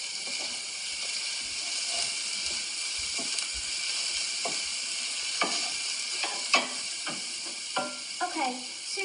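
Spinach sautéing in a pan at a home cooking demonstration, giving a steady soft sizzle with scattered utensil clicks and scraping stirs toward the end, moderately close and with no talking.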